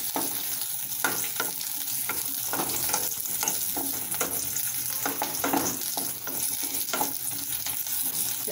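Eggplant sautéing on low heat for moor kulambu, a soft continuous sizzle with light, regular spoon strokes against the pan, close but quiet and without speech.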